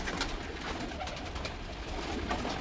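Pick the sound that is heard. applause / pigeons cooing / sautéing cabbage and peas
pigeons cooing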